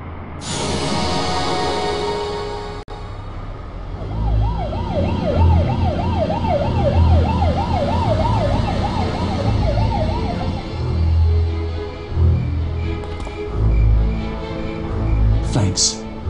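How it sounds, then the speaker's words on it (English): Ambulance siren in the hidden-object game Mystery Tales 6: The Hangman Returns, a clear wailing siren rising and falling for several seconds over a low vehicle rumble and background music. "ambulance is on its way."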